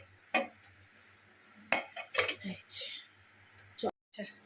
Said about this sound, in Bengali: তা আমি ঢাকাটা দিয়ে দিই।